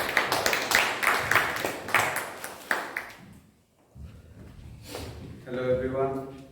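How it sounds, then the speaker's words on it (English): A round of applause at a Toastmasters meeting, several seconds of sharp, close claps that taper off before a voice begins speaking. "Please give him a round of applause."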